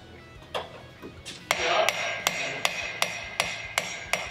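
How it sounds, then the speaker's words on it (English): Sharp metallic taps from a brass hammer striking metal during a Mercury Pro XS 250 outboard teardown, a few irregular hits then a steady run of evenly spaced ringing taps, close and clear with no talking. "Brass hammer tapping it, not beating on it, tapping it."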